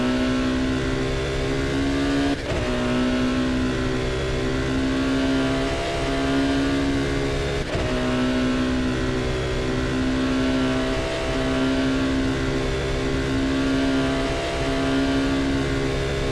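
Race car engine in the rFactor sim accelerating hard out of a chicane onto the Mulsanne straight at Le Mans, a loud steady high-revving drone punctuated by two sharp gear shifts, heard alone throughout.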